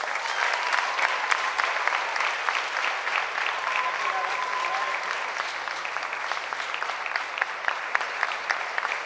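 Sustained dense applause from a large audience at a closing ceremony of an international ballet academies gathering, steady and full throughout with no pauses.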